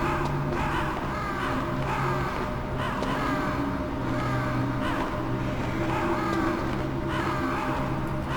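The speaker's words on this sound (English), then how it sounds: "All these birds are flying around going, get away, caw," Repeated crow caws in Metal Gear Solid, harsh calls recurring roughly every second or so over a steady droning background, moderately loud and without any talk.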